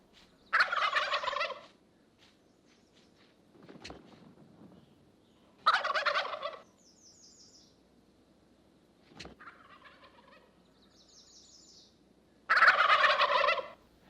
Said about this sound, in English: Their loud, characteristic gobbling carries across the hollows.